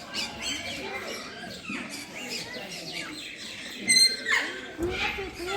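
Lovebirds and rose birds in a small bird garden squawk and chirp in scattered, faint calls while a person talks nearby.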